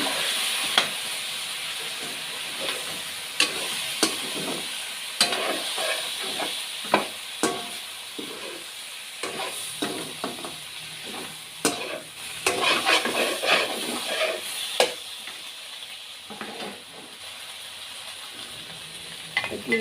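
Chicken adobo being stirred in a sizzling pan, with a steady frying hiss broken by repeated scraping and clattering strokes of a spoon against the pan, close and fairly loud, with no one talking.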